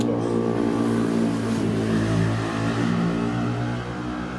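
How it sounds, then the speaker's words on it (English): Noisy motorbike engine droning loudly nearby, a sustained buzzing roar that holds steady and fades slightly toward the end. "Noisy motorbike."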